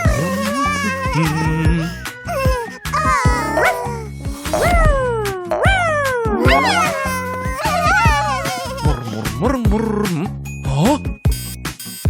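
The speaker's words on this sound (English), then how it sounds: "Meow." A cartoon cat meows loudly in a children's animation, giving a long run of high, pitched, sliding mews and squeals. Short clicks and effects are scattered between the calls.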